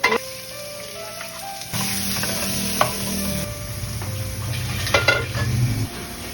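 Onions and garlic frying in an oiled pan for pancit cabagan, a loud close sizzle that swells midway as more goes in, with stirring scrapes and light clinks throughout.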